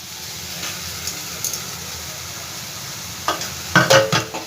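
Chicken sautés with spices in a pan over a high gas flame, giving a steady low sizzle with scraping and clattering stirring noises that grow louder near the end.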